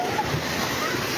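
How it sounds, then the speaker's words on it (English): Tsunami waves surge onto the coast of Tonga in a steady, broad roar of rushing water, dense and continuous from start to end, with a voice faintly under it. "Tongans are on the beach to film the first waves hit the coast."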